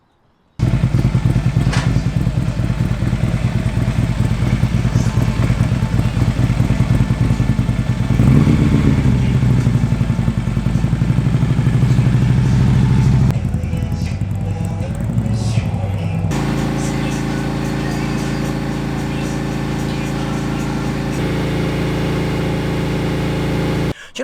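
A Harley-Davidson motorcycle engine runs steadily close by, a loud, lumpy idle that later shifts to a smoother, even drone, with a bike that previously had a rattling old exhaust pipe.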